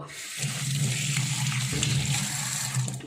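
Water running from a kitchen tap as food is rinsed by hand, a continuous close splashing gush with a low hum, lasting about three seconds with no talking.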